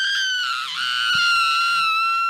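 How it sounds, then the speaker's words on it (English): A loud, sustained scream rings out in a dark horror story reading, holding a shrill piercing tone for about two seconds with a brief dip in pitch partway through. "a loud scream broke the silence"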